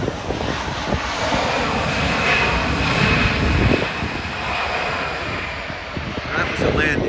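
An airplane landing at LAX makes a broad, continuous engine roar with steady rumble and hiss throughout. It sounds fairly close and loud, with wind buffeting mixed in and faint voices beneath it.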